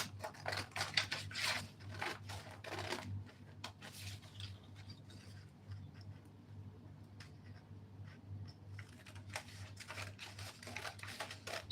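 Scissors cutting a dart out of a paper sewing pattern, with repeated crisp snipping strokes, a dense burst at first, a quieter middle stretch, then more snips near the end, close and fairly faint.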